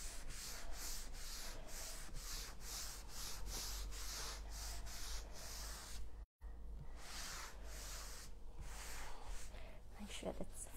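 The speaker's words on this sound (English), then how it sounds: "I'm just evenly wiping onto my surface." Tjhoko chalk-style paint being wiped evenly across a furniture surface, a steady rhythmic rubbing and swishing, close and continuous, broken by a brief silent gap midway.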